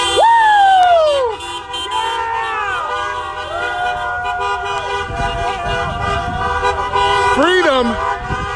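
Car horns honk repeatedly at a street protest against a lockdown in Michigan, a mix of short toots and longer blasts over steady traffic noise, with crowd voices and cheering underneath.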